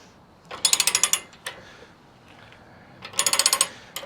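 A ratcheting wrench tightens hardware on a dual swing-out rear bumper tire carrier gate on a Jeep Gladiator Rubicon, giving two quick bursts of rapid metallic clicks separated by a single click and quiet handling.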